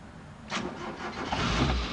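A Jeep engine being started with power from a WITTS hemisphere generator: a short cranking burst, then the engine catches into a rising, rumbling idle that builds and holds, close and fairly loud, with no voices.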